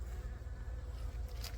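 Honeybees buzz in an opened beehive during winter feeding, a soft, continuous low drone that stays close and faint, with no talking.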